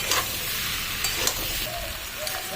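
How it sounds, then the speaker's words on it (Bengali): Raw mango pickle mixture frying in a pan, with a steady close sizzle and a few soft scrapes of stirring, no voices. "আরও ভালোভাবে ভেজে নিতে হবে"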